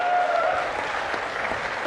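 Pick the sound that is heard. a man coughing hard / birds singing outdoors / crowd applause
crowd applause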